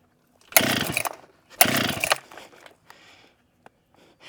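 An old professional logging chainsaw with the choke set is pull-started twice, each pull giving a loud sputtering burst. Weaker rattles and faint clicks follow before it falls quiet.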